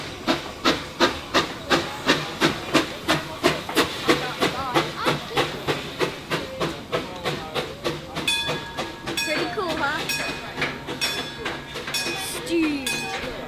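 The Puffing Billy steam train, heard from the front, chuffs in a steady, even rhythm of loud puffs with hissing steam, then a continuous rush with metallic clinks, while people talk nearby.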